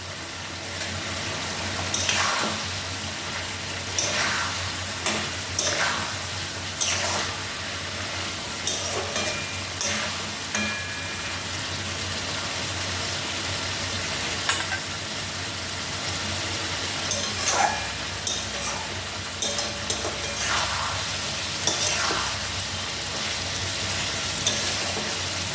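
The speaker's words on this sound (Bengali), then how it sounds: "একটু কষিয়ে নিই, কষিয়ে নিয়ে তারপর জল দিয়ে দেবো।" Fish curry sizzles steadily in a pan as it is sautéed, with repeated scraping and clinking of a spatula stirring through a continuous close frying hiss.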